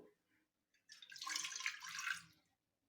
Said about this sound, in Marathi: थोडंसंच पाणी घालायचं आहे